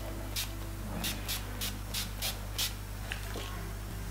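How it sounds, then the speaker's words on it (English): Several quick spritzes of NYX Matte Setting Spray misted onto a face, short hissing bursts in an uneven rhythm of about eight pumps, close up and fairly soft over a low background hum. "I'm going to go in with my NYX Matte Setting Spray. Shake it and then spritz it."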